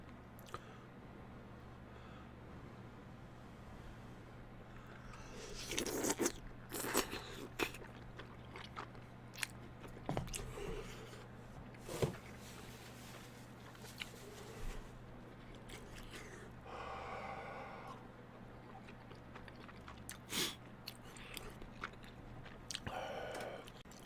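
Close, quiet chewing of a big mouthful of bunmoja tteokbokki, soft squishy bites and occasional crunches spread over a long stretch against a low steady hum, with no speech.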